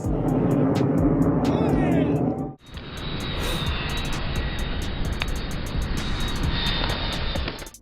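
Airplane taking off from a dusty runway, a loud continuous engine roar and rushing wind that cuts out abruptly then returns as a steady high whine with broadband noise, with talking in the background.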